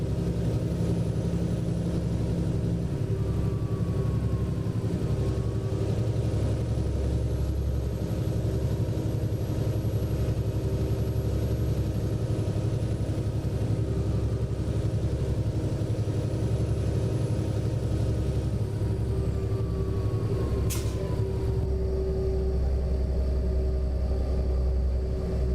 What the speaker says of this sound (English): At least this way you can definitely hear the engine running a little bit better.